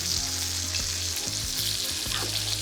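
Steak searing in a hot skillet, a steady loud sizzle with dense crackling spatter holding continuously throughout, with no voices.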